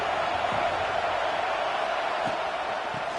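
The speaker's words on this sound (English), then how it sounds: "This crowd ready to make its presence known." A college football stadium crowd at a Baylor vs NC State game roars as a steady, dense wash of noise that fills the whole clip, with no quiet gaps.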